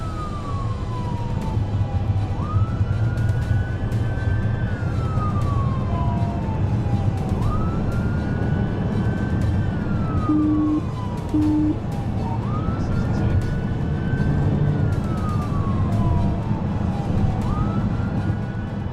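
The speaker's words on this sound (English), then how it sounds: "When emergency lights and sirens were activated, the driver refused to stop and continued southbound." A police car siren wails in repeated rising and falling cycles over a loud, steady engine and road roar during a high-speed pursuit.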